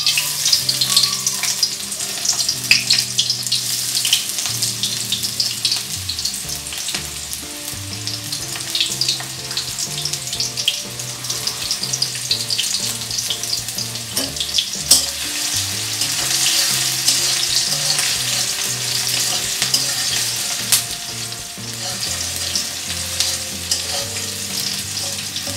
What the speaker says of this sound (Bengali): তেল গরম হয়ে গেলে এর মাঝে আমি পেঁয়াজ কুচি দিয়ে দেব।